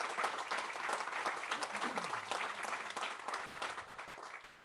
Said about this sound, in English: So a round of applause again for Homes for Our Troops.